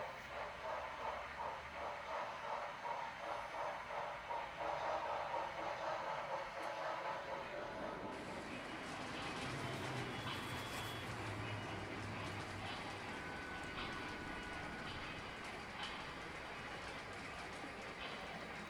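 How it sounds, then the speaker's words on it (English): A loaded scrap freight train passes through a rail yard, a continuous rumbling roll of railcars with metallic clatter and squealing, steady and fairly close, with a shift in texture partway through as the cars go by. "This is a loaded scrap train bound for Allentown via Bethlehem Steel."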